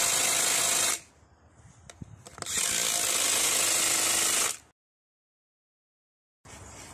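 A ratchet tool tightens washers and nuts onto small threaded rods on a DIY wooden pergola post, giving two sustained bursts of rapid mechanical clicking and whirring separated by a pause, close and fairly loud.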